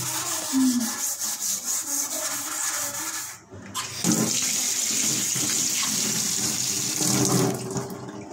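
A water tap being scrubbed with a homemade cleaner beside a sink, with steady rubbing and running-water sounds close by that carry on throughout, broken by a short quiet gap near the middle.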